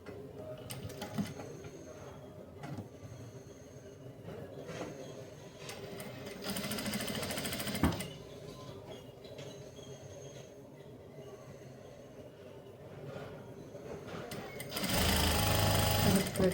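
Sewing machine stitching a blouse, running in bursts of rapid mechanical clatter with pauses between, close by and moderately loud, ending in a louder sustained run while someone talks.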